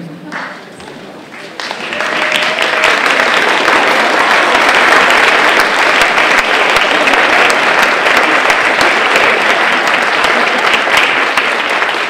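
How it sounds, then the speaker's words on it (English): An audience rises in a standing ovation, loud continuous clapping swelling after a quiet start and holding steady, with a voice speaking briefly near the beginning. "Thank you for another standing ovation."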